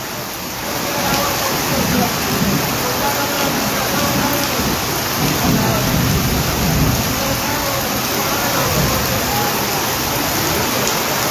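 Heavy rain pouring down during flooding in Madhubani, a dense, steady roar of falling water that rises in the first second and holds evenly to the end.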